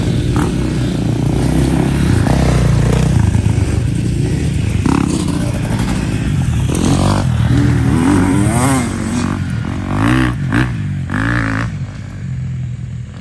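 Dirt bikes ride nearby, a 450 four-stroke and a 250 two-stroke, their loud engines droning and revving continuously, with rising and falling throttle sweeps toward the end.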